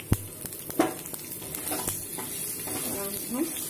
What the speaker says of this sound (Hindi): राई जीरा चटक गया, मैं इसमें ये आम डाल दे रही हूँ।